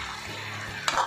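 Cabbage solyanka sizzles softly in a frying pan with a brief scrape of a utensil near the end.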